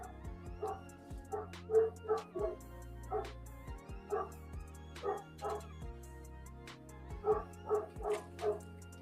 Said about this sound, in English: I got a Great Pyrenees Guardian dog. He's going crazy barking right now.